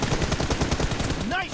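Rapid automatic gunfire in a one-on-one team deathmatch shooter game: a loud, close, continuous burst of evenly spaced shots.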